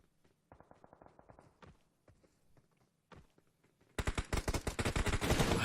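Rapid bursts of AK rifle fire in the BGMI battle royale game, sparse at first, then a loud, dense stretch of sustained automatic shooting near the end.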